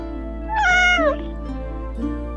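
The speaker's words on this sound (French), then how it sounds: "je trouve que ce miaou a l'air trop triste" A cartoon cat gives one long, drawn-out, sad-sounding meow that falls in pitch, loud and close, over a steady background hum, followed by quieter faint sounds.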